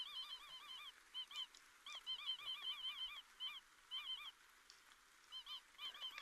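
A cartoonish duck toy in Gorilla Tag, the VR game, quacks and honks in rapid repeated bursts, fairly faint and close, grouped in short clusters with brief pauses between them and no talking over it.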